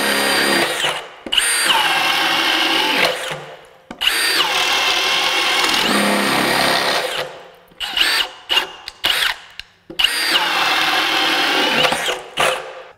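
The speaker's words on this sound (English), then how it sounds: "Here's an 1¼ inch spade bit. Let's see how that does." A Milwaukee M18 FUEL 2906-20 half-inch hammer drill bores into wood with a 1¼ inch spade bit, giving loud, close whirring runs of a few seconds each, broken by short bursts and pauses.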